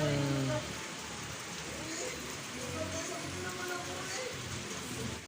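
Constant rain near Mount Banahaw pattering on a surface, a dense even hiss, with a brief voice at the very start.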